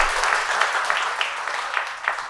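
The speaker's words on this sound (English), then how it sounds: "Please give them a big round of applause again" Audience applause after a panel discussion at a conference event on working in Japan, a short dense burst of clapping from a crowded room, loud and steady for a couple of seconds.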